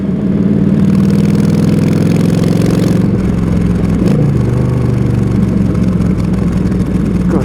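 Yamaha XVS 1300 motorcycle with an O2 EFI tuner fitted, its engine droning steadily and loudly while riding, with a low rumbling tone and a brief shift in pitch partway through.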